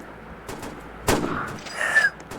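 Gunfire in the Roblox game Flick: a sharp shot cracks out near the middle, with fainter pops before it and a ringing, whooshing game effect trailing after.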